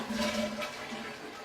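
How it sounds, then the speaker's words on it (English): A household toilet flushes with a brief gurgling rush of water that tapers off within a second or so, close and moderately loud, with no talking. "Then flush your toilets."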